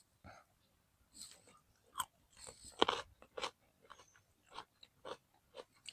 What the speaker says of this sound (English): I hope the chewing isn't super loud.